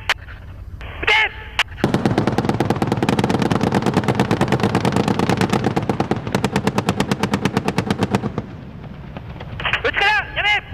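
Rapid machine gun fire during a Japanese military drill, a long sustained burst of evenly spaced shots lasting several seconds, loud and close, with shouted commands before and after.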